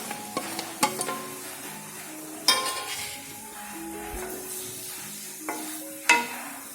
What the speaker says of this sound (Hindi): ऑयल गर्म हो चुका है और अब हम इसमें प्याज ऐड करेंगे।